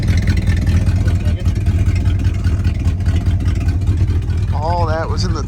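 A Ford F350 project truck engine idles loudly and steadily right after its first start-up, a dense low rumble throughout, with a brief voice near the end.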